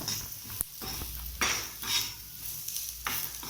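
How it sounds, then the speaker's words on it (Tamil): Grated beetroot being sautéed and stirred in a pan for chutney: a spoon scrapes and clanks against the metal pan at irregular intervals over a soft background sizzle, close up, with no talking. "நல்லா பீட்ரூட்டு வாசனை போகிற வரையும், பச்சை வாசனை போகிற வரையும் நல்லா வதக்கணும்"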